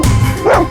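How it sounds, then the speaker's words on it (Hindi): A dog named Sheru barks in a short burst, close and fairly loud, with a yelping bark rising near the end. "शेरू बार बार उस तरफ मुंह करके भौंक क्यों रहा है?"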